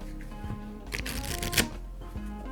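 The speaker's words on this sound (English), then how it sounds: "So let's just do one more shuffle here." A deck of Pokemon trading cards from an Astral Radiance Build & Battle box is shuffled by hand: a quick, close riffle of flicking cards lasts about a second, with quiet handling before and after.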